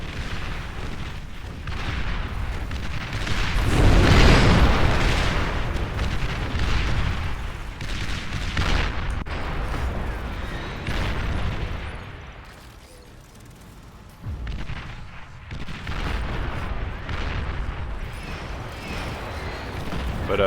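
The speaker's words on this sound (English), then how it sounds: "fat boy shot can wipe out a whole massive group of snipers or sharpshooters" Heavy Fat Boy artillery shots in the strategy game Beyond All Reason boom and rumble in a dense, continuous barrage, with low thuds rolling under a busy battle din and a quieter lull midway.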